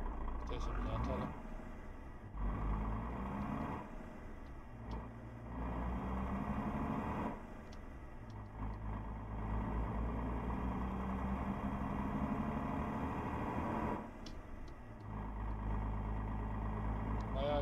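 A Mercedes Axor 3240 truck's engine and exhaust in Euro Truck Simulator 2 give a steady, loud, low droning rumble that briefly dips a few times before resuming.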